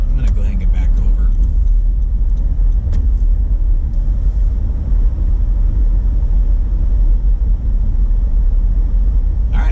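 A car drives along Lake Shore Drive in Chicago, with steady low road rumble and engine drone throughout, heard from inside the car and close, with a voice talking over it.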